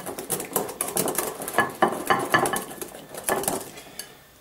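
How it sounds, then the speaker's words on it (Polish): Smoked mackerel salad with dill, pepper and salt being mixed in a bowl: repeated clinks and scrapes of a utensil against dishware in an uneven, busy rhythm, close and fairly loud, with no talking. "I teraz to wszystko mieszamy."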